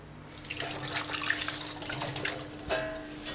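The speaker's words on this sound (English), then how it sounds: "Again, I'm going to wash our hands because a clean kitchen is a good kitchen." Hands being washed under a running kitchen tap, a steady close stream of water broken by splashes as the hands move through it, with no talking.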